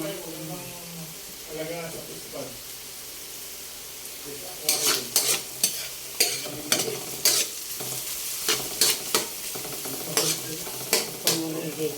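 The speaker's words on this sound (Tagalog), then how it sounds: "Ito muna igigisa." Ginger, garlic and onion sauté in a little oil in a pan, with a low steady sizzle. A utensil stirs and scrapes in sharp, repeated strokes over the second half, and a voice speaks briefly early on.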